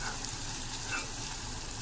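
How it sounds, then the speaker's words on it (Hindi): Chopped onions and green chillies fry with a soft, even sizzle in a pan for egg bhurji, a short continuous hiss with no voices. "और साथ ही कटी हुई हरी मिर्च भी ऐड करके थोड़ा सा हम इसको फ्राई कर लेंगे।"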